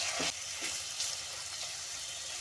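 Mutton pieces frying with masala in a pressure cooker, a soft steady sizzle with a few quick stirring scrapes, fairly close and moderate in level.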